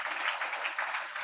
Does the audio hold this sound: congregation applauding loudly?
yes